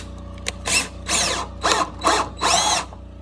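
A cordless power drill whirs in five short bursts, boring deep into wood until it cracks, with rising pitch each time, loud and close with brief pauses between.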